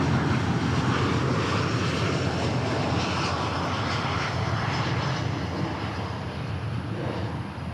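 Boeing 737 landing at Dallas Fort Worth airport, a heavy rumbling jet roar with airy hiss that stays loud and then eases slightly toward the end, heard on its own.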